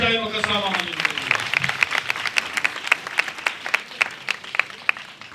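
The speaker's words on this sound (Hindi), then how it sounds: "जोरदार तालियां बजाएं मुकद्दसा माँ मरियम के लिए" A congregation at St. Mary's Catholic Church, Sardarpura, Lahore Cantt, claps for Holy Mother Mary. A voice speaks over the opening before dense, steady applause takes over, with sharp individual claps standing out, some falling into a loose rhythm.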